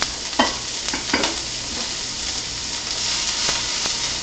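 Onions and garlic frying in a hot pan for chicken Parmesan sauce: a steady, close broadband sizzle with a few sharp stirring clatters of a utensil against the pan, no talking.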